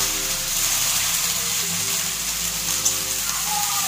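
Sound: onions frying in oil

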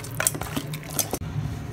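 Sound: mixing quail pieces with chili powder, salt and oil

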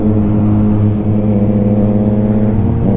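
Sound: Yamaha MT-09 motorcycle engine with Akrapovic exhaust rumbling

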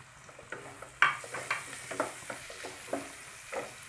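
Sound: eggplant pieces and chopped onion frying in a pan

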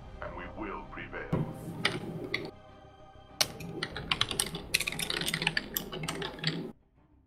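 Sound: typing on a computer keyboard

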